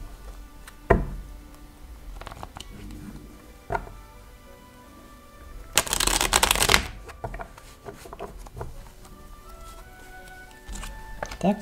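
Tarot cards are shuffled for a reading, with crisp taps and knocks and then a loud burst of riffling up close, followed by lighter card handling.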